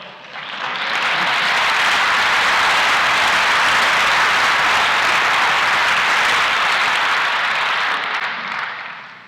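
An audience at a talk by Eric Butterworth breaks into loud, full applause that swells quickly, holds steady for several seconds, then tapers off at the end.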